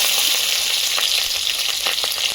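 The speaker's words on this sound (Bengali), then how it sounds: "ভাজা কাঁচা লঙ্কা" Green chillies frying in hot oil with kalo jeere (nigella seeds) for a small-fish curry, a steady close sizzle with scattered sharp pops and crackles throughout, no talking.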